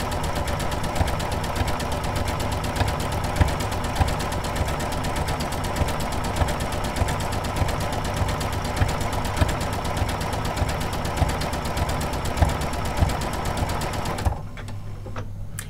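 Janome sewing machine fitted with an edge guide foot, stitching steadily and close in a fast, even mechanical whir and knock that runs unbroken for about fourteen seconds before stopping.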